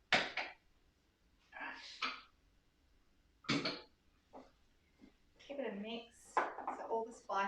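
Falafel ingredients stirred in a bowl, giving a series of short, close scraping and clinking bursts at an irregular rhythm with quiet gaps between them, alone without talk.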